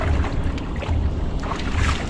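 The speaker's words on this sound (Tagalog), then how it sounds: "Yung speed na single piston, yung makina niyan." A single-piston engine on a boat, its low rhythmic thumping pulses under wind and water noise, close and fairly loud.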